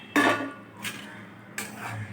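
A pot of thin hilsa fish curry with fried eggplant, potato and taro being stirred, giving three separate soft clinks and scrapes of a spoon against the pot, quiet and close, with no talk.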